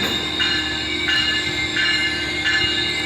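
A Metrolink train bound for Laguna pulls away, its steady rumble carrying a high wheel squeal that pulses in repeated bursts, loud and close, with no talk.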